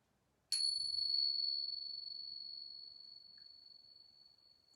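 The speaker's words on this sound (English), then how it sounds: "So we're going to use the tingsha bells, and they do make a special sound." Tingsha cymbals are struck once and ring out in a clear, high, sustained tone that fades slowly over several seconds in a quiet room.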